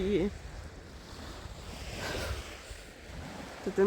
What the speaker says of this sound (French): Ça me fait tellement du bien d'entendre les vagues.